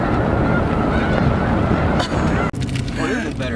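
Snow geese honking in a large flock circling down to land during a goose hunt, a dense continuous chorus of calls at moderate distance, with a few louder nearer honks and a brief rustle toward the end.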